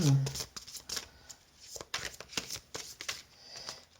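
Tarot cards shuffled and drawn close by: a run of quick papery riffles and light slaps repeating in uneven bursts, with a voice briefly speaking at the start.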